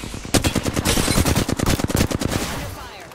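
Rapid automatic gunfire in the video game Apex Legends, a loud sustained burst of closely spaced shots tapering into a fading echo.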